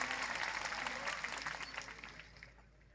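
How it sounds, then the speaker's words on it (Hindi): Crowd at a political party's founding-day event in India applauds loudly at first, a dense spread of clapping that gradually fades and thins out over a few seconds. "इसलिए एक बार जोरदार तालियां आप सबके लिए।"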